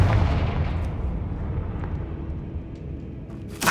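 A Confringo spell blast in Hogwarts Legacy, a deep rumbling explosion that starts loud and gradually fades, followed by a sharp burst at the end.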